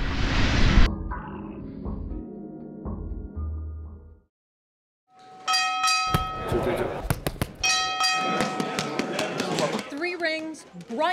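Bells ring loud and bright with sharp metallic strikes among busy noise, coming just before a National Silver Gloves boxing tournament, with a brief silent gap between the sections.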